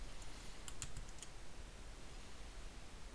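A computer keyboard is tapped in a short run of light, close clicks on a Unity tutorial's text, then falls quiet, leaving a faint steady hiss.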